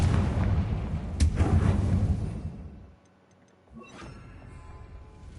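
A Confringo fire-blast spell in Hogwarts Legacy erupts as a loud rumbling explosion that holds for about two seconds, then drops to near silence before a smaller crackling burst follows.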